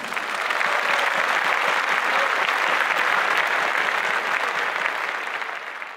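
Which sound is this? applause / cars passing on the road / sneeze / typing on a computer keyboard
applause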